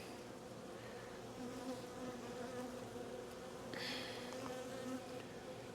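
Honeybees buzz continuously around a beekeeper working an open hive, a close, steady drone with a few individual insects flying past louder.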